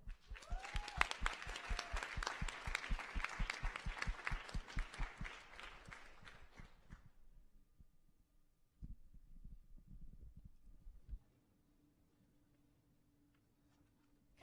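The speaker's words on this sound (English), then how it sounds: "Let's give one more round of applause for all the nominees and the award winners of the night." Audience applause for the nominees and award winners at the Student Affairs Leadership Awards 2024 ceremony. Sustained, loud clapping from a crowd fades out after about seven seconds, followed by quieter room noise and a low hum.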